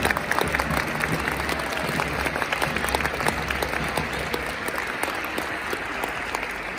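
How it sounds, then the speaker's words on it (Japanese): Sustained stadium applause from a large crowd at Yokohama F. Marinos player Yuzo Kurihara's retirement ceremony, honoring visiting guest players; dense, steady clapping fills the whole stretch with a faint crowd murmur beneath. "大きな拍手をお送りください"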